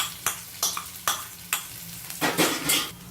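Chopped green chili and garlic frying in a pan, with a handful of sharp stir-and-scrape bursts over a steady low sizzle, the hiss swelling louder near the end; no talking.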